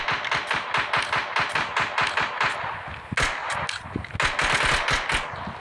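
Rapid pistol gunfire in the mobile shooter Blood Strike, loud dense strings of shots in quick bursts with brief gaps, no speech.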